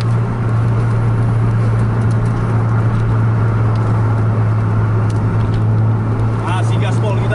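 A Scania bus engine in a bus racing game roars at full throttle, a steady loud drone with a strong low hum throughout and no pauses, while faint background noises flicker near the end.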